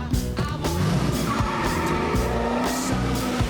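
Car engine and tire squeal from a scene in the TV series Lanterns, a roaring motor with skidding tires, loud and continuous throughout with a busy soundtrack underneath.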